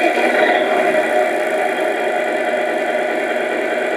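A Tamiya RC Freightliner Cascadia truck's simulated engine hums at a steady idle, a close, even drone with faint vibration and no change in pitch.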